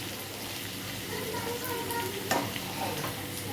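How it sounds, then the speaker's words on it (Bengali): Potato pieces frying in hot oil with fennel seeds give a soft, steady sizzle, with a brief scrape of stirring partway through, faint and without talk. "চলো দেখো আমার কিন্তু আলুগুলো মোটামুটি ফ্রাই হয়ে গেছে।"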